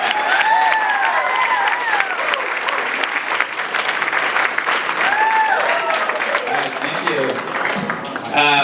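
A comedy club audience claps for a stand-up comedian taking the stage, loud sustained applause with a few whoops and cheers, fading toward the end as a voice begins to speak.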